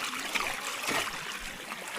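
Floodwater rushing across a flooded, newly planted rice paddy, a steady close wash of flowing, gurgling water with no voices.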